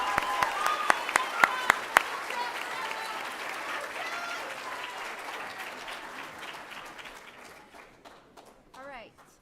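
Audience applause at an eighth-grade school awards ceremony for award winners, opening with a few sharp near claps, then a broad wash of clapping that gradually fades away, with voices beneath.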